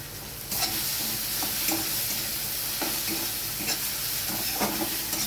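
Yardlong beans fry in a pan while being stirred, giving a steady sizzle broken by repeated scraping strokes of a utensil, close and moderately loud with no talking.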